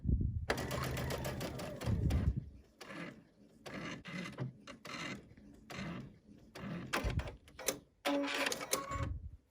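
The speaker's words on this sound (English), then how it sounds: "while I'm stitching along looking at my grid line" A sewing machine quilts fabric with a walking foot in close, rapid stitching bursts, separated by short pauses as the stitching stops and starts.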